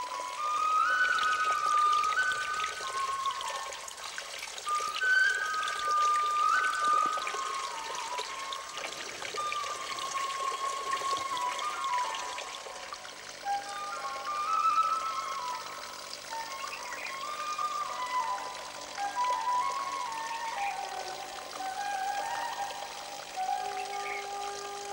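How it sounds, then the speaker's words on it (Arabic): Spring water in the Raidah Reserve near Abha flows and trickles in a steady, gentle stream, with soft dribbling and faint high chirps or whistles over it and no voices. "ويتسرب الماء عبر جذور الأشجار ليفجر الينابيع وتثرى الحياة."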